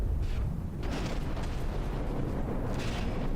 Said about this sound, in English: Now we have anti-torpedo torpedoes popping in there.